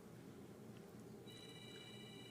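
A telephone rings faintly inside a church, a thin, distant tone that comes in over a low, steady background hum partway through.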